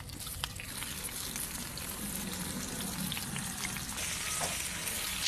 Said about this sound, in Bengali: এখন মাছটা ভাজিয়ে নেব।